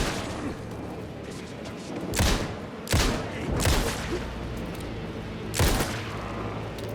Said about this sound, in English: So I do need to shoot.